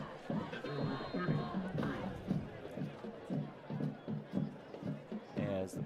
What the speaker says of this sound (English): You can hear the bands, you can hear the cheerleaders, you can hear the crowd.